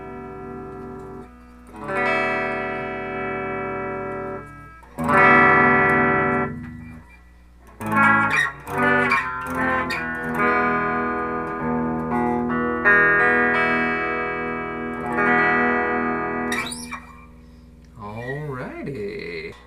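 Clean electric guitar notes and chords ring out through a tube amp's clean channel, sustained and bright, with short pauses between phrases and a sliding, wavering figure near the end.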